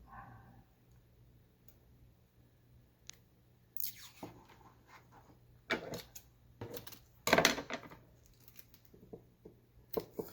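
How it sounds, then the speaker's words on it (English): Adhesive tape pulled and cut while taping a sublimation tumbler, quiet scattered clicks and ticks with a few louder ripping and crinkling bursts near the middle and end, close by, no talking. "I'll get another piece of tape"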